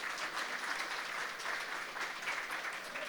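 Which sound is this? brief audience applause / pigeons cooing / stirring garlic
brief audience applause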